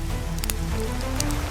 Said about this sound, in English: Rain struck canvas like war drums